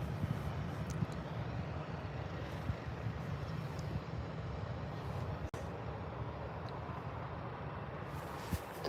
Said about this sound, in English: Oh, another cheeky EasyJet taking its departure.